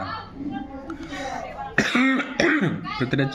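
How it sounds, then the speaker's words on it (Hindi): A couple of sharp coughs break into a lecturer's steady speech, loud and close, with talking continuing right after. "सॉरी थोड़ा सा खांसी हो गया है"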